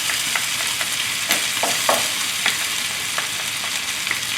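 Tofu is stirred in a hot pan, a steady frying sizzle broken by the scrape and knock of a utensil against the pan bottom at irregular intervals.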